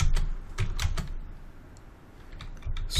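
Loud computer keyboard typing while entering iptables commands on a PBX server: quick bursts of sharp, close clicks separated by short pauses, with no talking.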